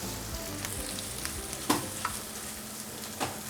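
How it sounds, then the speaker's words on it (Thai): Shrimp stir-fried with onion in plenty of butter, giving a steady close sizzle and frying hiss with a few light spatula clinks and scrapes scattered through. "ผมจะเอากุ้งนะครับ ที่เราทำความสะอาดไว้แล้วเนี่ยใส่ลงไปผัดนะครับ"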